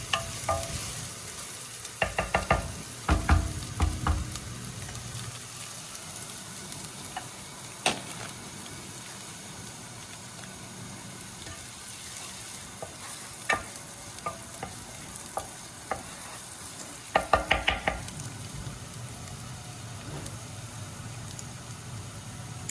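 Shallots fry in a pan for a North Vietnamese crab noodle soup, giving a continuous close sizzle. Clusters of scraping and clattering stirring strokes come near the start and again near the end, with quieter stretches of hissing between them and no talking.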